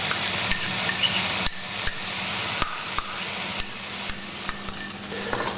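Spices and garlic frying with onion in a pan for Thai cooking, a continuous loud sizzle punctuated by sharp clicks and taps of a utensil against the pan at irregular intervals.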